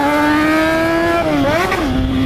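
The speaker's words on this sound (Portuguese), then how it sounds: "Agora vocês vão ouvir o berro da motoca." Yamaha XJ6 automatic motorcycle fitted with a cheap aftermarket exhaust, a loud close-up engine drone that holds steady, then rises and dips through a quick rev before settling.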